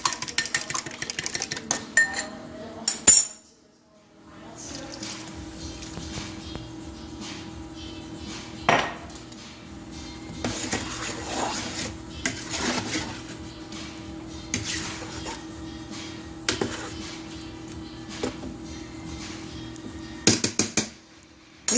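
A spoon scrapes and knocks against a metal pot while beef stew is mixed, giving repeated clinks and clatters in uneven bursts over a steady low background hum, with a brief pause near the start.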